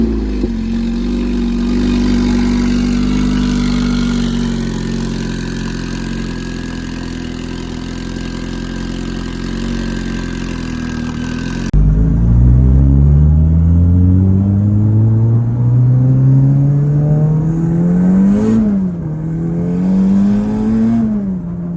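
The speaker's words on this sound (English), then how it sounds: "Let me warm the car up." A tuned all-wheel-drive FB6 Honda Civic engine idles steadily and loudly, then revs up and down in rising and falling sweeps, close by with no talk.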